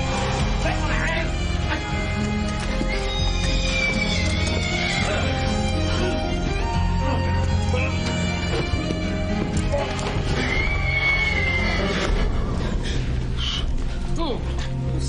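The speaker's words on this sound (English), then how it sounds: "Oh, sir, the horse nearly killed you." A horse whinnies loudly at close range over a dense, continuous background of music and commotion, with a few sharp knocks and brief voices mixed in.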